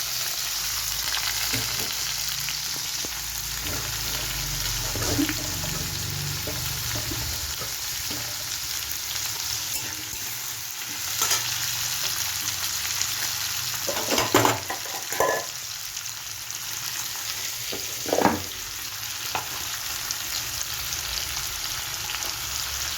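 Dried shrimp and pumpkin frying in a pan, a steady close sizzle running throughout with a few sharper stirring scrapes and clatters at intervals.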